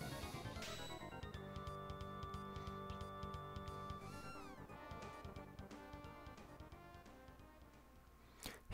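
Chrono Trigger's game music plays continuously, a bright cat meow sliding through it about midway, with a short sharp effect right at the end.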